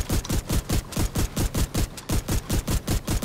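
A video game weapon fires a rapid, evenly spaced string of sharp shots, about four per second, loud and close with no talk.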